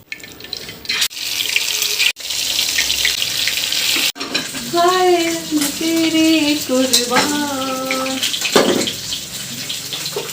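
Marinated katla fish frying in a pan, a steady broadband sizzle running throughout with brief gaps, while a voice-like tonal sound rises over it midway.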